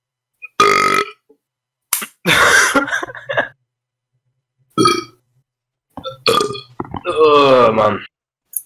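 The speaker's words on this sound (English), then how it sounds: "I burped on his entire household." A man burps loudly several times, the belches coming in short bursts separated by gaps, with other voices reacting in between during a casual conversation.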